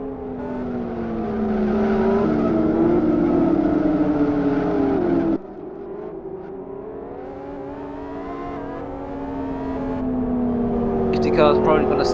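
Race cars scream around a circuit in the Live for Speed racing game, engines whining and shifting pitch as they pass, loud and continuous, with a commentator talking over them.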